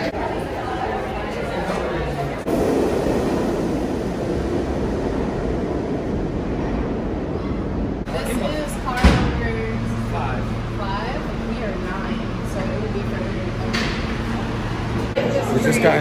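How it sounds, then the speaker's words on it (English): Busy New York City subway station ambience: crowd chatter and footsteps echo in a large space, with low rumbling and steady tones like a train idling nearby. "We just got into the train station."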